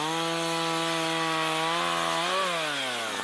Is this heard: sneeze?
no